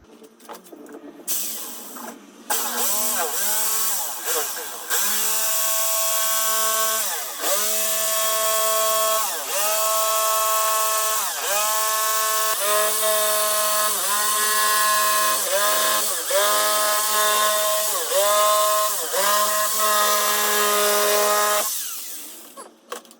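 A power saw cuts a wooden baseboard for a Lego shed, a loud, close motor whine that rises and dips repeatedly as the blade bites into the wood, stopping briefly between passes.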